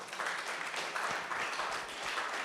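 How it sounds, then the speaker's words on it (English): Applause from an audience at a Saturday morning forum, steady and moderately faint, a dense wash of clapping lasting a few seconds with no talk over it. "Give him a round of applause"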